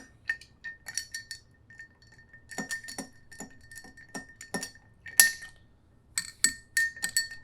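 Ice clinks and rattles against a cocktail glass in short irregular bursts as it is stirred, with bright chiming knocks and brief pauses between stirs.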